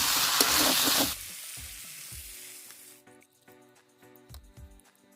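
Chicken meat for curry sizzles loudly in hot oil for about a second, then the frying drops to a faint crackle broken by soft stirring knocks.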